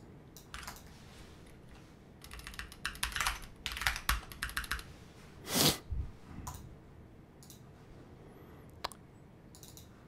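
Code typed on a computer keyboard: steady close clicking keystrokes in quick bursts with short pauses and one louder thump midway, no talk.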